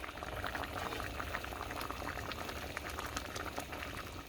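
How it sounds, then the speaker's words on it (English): Turkey potpie filling bubbles hard in a pot as it reduces, a dense, steady crackle of popping bubbles and liquid burbles, close and continuous, with no talking over it. "The filling is boiling."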